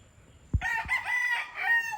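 A farm rooster crows once, loud and close, a rising then sustained harmonic call lasting about a second and a half after a brief thump.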